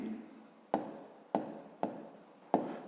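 A pen writes numbers on paper, close and crisp, in four sharp tapping strokes each followed by brief scratching, with a short pause between strokes and no talking.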